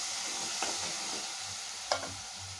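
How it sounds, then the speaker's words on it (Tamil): Mixed vegetables with small onions and a little potato stir-fried in a pan, a low sizzle with a couple of sharp spatula scrapes and clinks, no talking. "இப்போ நல்லா பரட்டி கொடுக்கலாங்க"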